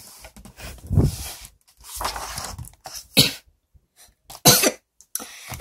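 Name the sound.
voice imitating a sneeze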